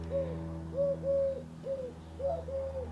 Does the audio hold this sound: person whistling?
no